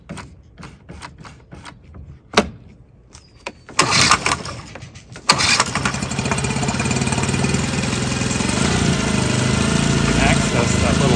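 A cold outboard motor cranks through several sharp pulls and sputters, catches briefly, then starts and runs on as a loud, steady, close idle drone.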